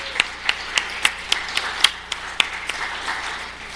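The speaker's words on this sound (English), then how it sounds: "Give him all a round of applause." Sparse clapping from a small audience at a Python meetup, individual claps landing in a loose, uneven rhythm against a low room hum, fairly near and moderate in level.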